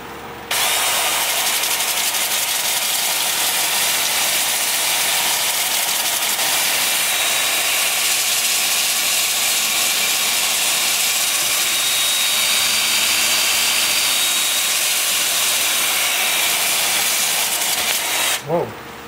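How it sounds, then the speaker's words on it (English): Wood lathe turning weeping birch, spinning in reverse at 350 RPM, a loud, continuous whirring drone with a high whine that holds steady for the whole stretch before cutting off abruptly. "I'm going to have the lathe spinning in reverse to begin with at 350 RPM."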